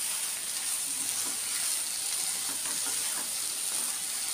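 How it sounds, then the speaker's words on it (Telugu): Godavari prawns frying in a pan give a steady, bright sizzle and hiss that carries evenly throughout, close by, with no speech over it. "ఇంకొంచెం సేపు ఫ్రై చేసుకుంటే అది డ్రై అయిపోద్ది"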